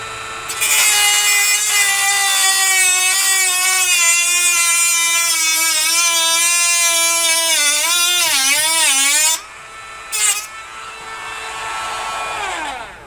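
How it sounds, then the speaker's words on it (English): A Dremel Micro rotary tool cutting off metal gives a loud, steady high-pitched whine that wavers in pitch as the cut loads it, then stops abruptly, followed by a brief burst and a quieter grinding tail. "So we're going to use this nice Dremel Micro. I have safety glasses on. Speed it up and cut this off."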